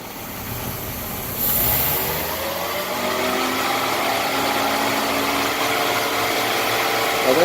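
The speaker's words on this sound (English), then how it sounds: "I'm going to give it a little bit of gas and see if it stays switching." Car engine running at idle, then lifting slightly as a little gas is applied during a fuel mixture adjustment, a steady close hum with a brief rise in pitch and no voices.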